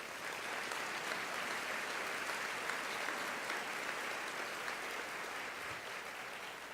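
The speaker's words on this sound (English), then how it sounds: "Please give them all a round of applause" An audience at San Antonio's State of the City address gives a sustained round of applause for honored guests, a steady crowd clapping at moderate distance that holds without break for several seconds.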